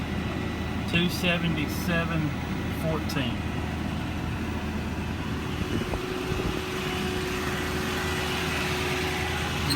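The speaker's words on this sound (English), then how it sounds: "engine revs up" A 2009 Ford F550 mechanics truck with crane revs its engine with the power takeoff engaged, a steady broadband engine roar under a voice talking close by.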